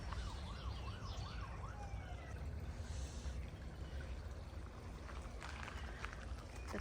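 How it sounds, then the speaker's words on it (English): A police car siren wails at a distance, its rising and falling tone faint behind steady rushing water from a small creek in a botanical garden in Manukau, Auckland. "and I can hear a cop car as well."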